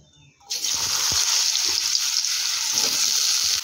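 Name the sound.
cut potatoes added to hot oil and frying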